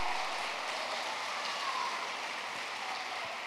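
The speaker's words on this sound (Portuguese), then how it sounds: "Dê um aplauso a Ele." A church congregation at a Sunday celebration service applauds steadily. The clapping is a continuous, moderately loud wash that sounds like rain and carries on without talk throughout.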